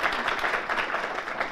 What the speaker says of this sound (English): One more applause for Lily.